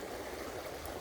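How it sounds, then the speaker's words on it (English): Fast-moving water in a new river, a dense continuous rushing and gurgling wash at a steady level, close and unbroken, with no voices. "the river is moving really fast right now"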